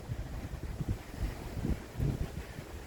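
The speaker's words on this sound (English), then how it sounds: "No point in fixing him until the wind dies down a bit." Wind gusts outdoors on an off-grid homestead in autumn, a faint rumbling buffet against the microphone that rises and falls in low, uneven surges with no voices.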